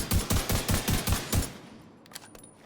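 A rifle fires in The Division 2, about seven sharp, evenly spaced shots in quick succession, loud and close, followed by a short quieter tail with faint clicks.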